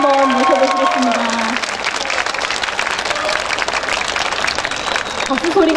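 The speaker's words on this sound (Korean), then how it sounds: "박수 소리가 적은 것 같아요" A festival audience at an opening performance applauds the performers, with dense clapping running throughout while a presenter's amplified voice speaks over the start and end.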